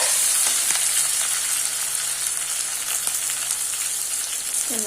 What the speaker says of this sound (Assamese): তেলতে হালধি দি দিছোঁ